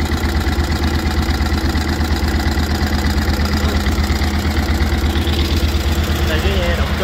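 A boat engine runs steadily and loudly close by, with a constant low droning hum throughout and no breaks.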